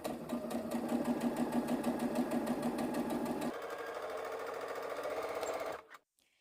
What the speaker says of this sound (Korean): 시접 1cm를 주고 박음질을 하거나 노루발 끝선과 원단 끝선을